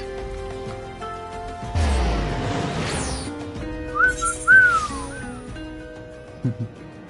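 A person whistles in a multiplayer Final Fantasy XIV session, short rising and falling whistled notes over game music and effects, moderately loud and close.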